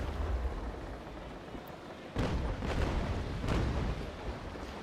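A cannon broadside from a ship fires at sea during a naval battle game, several deep booming blasts in quick succession over a constant roar of wind and waves, moderately loud and without talk.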